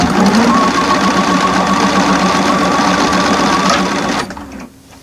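Sewing machine running continuously at an automatic steady speed while stitching a nested quilt seam, a loud, even mechanical whir with rapid needle clatter that stops abruptly near the end, leaving a quiet room.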